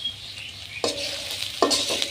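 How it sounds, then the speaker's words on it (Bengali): Garam masala goes into a sizzling pan of duck and potato curry, and a spoon scrapes and stirs twice through the steady frying hiss. "এখন আমি এখানে গরম মশলাগুলো দিয়ে দিলাম"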